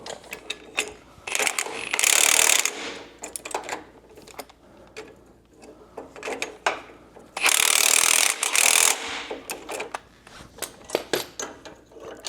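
Ratchet wrench being worked to tighten down a QA1 coil over shock mounting, with short bursts of quick clicking ratchet strokes between quieter rubbing and mechanical handling sounds, close up.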